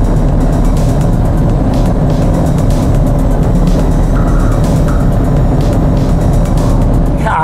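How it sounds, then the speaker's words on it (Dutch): A supercharged Jaguar XE at very high speed on the motorway, roaring loudly and continuously with rushing wind, a faint whistle briefly rising over the noise as it shifts up. "En hoor het fluiten van die supercharged als die weer opschakelt."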